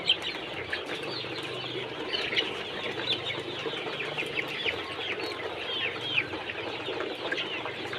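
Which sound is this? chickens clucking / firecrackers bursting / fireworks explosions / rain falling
chickens clucking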